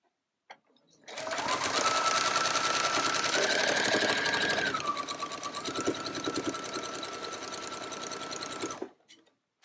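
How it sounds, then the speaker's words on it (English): A sewing machine runs close and loud as it stitches a quarter-inch quilt seam in one continuous burst of rapid needle clatter with a motor whine that shifts pitch slightly, then stops abruptly. "I'm going to stitch this up using a 1/4 inch seam."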